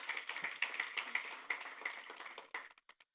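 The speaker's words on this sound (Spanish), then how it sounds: "give an offering of palms to the Lord for that" A church congregation claps together after being invited to give an offering of applause, a steady patter of many hands that fades out toward the end, leaving a few last scattered claps.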